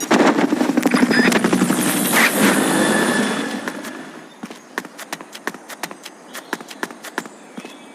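Helicopter rotor from the video game Metal Gear Solid Peace Walker, a loud steady thudding chop for the first few seconds that fades out, followed by sparse sharp clicks and taps.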